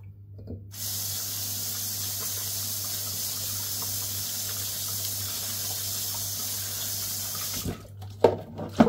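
A water tap runs in a steady hissing stream while someone washes their face, flowing continuously for several seconds before shutting off, followed by a few splashes and faint handling sounds.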